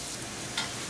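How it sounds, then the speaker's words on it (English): Onion and green chili fry in a pan with a soft, continuous sizzle, and one brief louder scrape or stir comes partway through. Nobody speaks. "Cooking our onion for 3 minutes."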